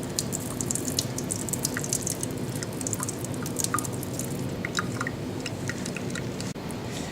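Water splashes and drips while a blood-soaked swab is rinsed during a Kastel-Meyer lab test, a steady close wet patter with small squishy ticks throughout, alone and without talk.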